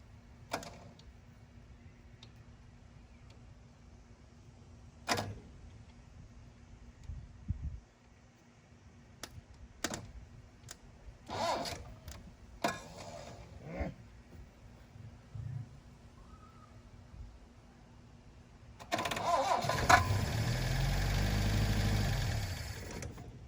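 A 1972 Plymouth Cricket engine, being revived with the choke on, cranks with scattered clunks and clicks before firing near the end into a loud, steady, rumbling idle close by.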